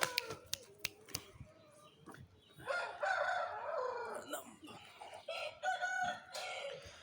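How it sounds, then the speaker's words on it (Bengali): An Aseel jungle rooster crows loudly and close by in a long harmonic call, with a second crow following; sharp clicks and knocks come before it and there is no speech. "ওটা অনেক বড় মোরগ, অনেক বড় বনমোরগ"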